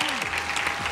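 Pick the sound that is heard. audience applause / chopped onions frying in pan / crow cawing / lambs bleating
audience applause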